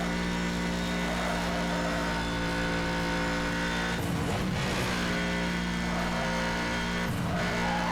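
A car held at top speed in the video game Need for Speed Hot Pursuit Remastered, a loud, sustained engine drone at steady pitch with brief bursts of rushing noise as it tears along a long straight.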